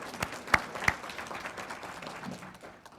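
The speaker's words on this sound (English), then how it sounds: "give yourselves a round of applause for that" Audience at an arts awards luncheon applauding, a scattered patter of hand claps with a few louder close claps that gradually thins out.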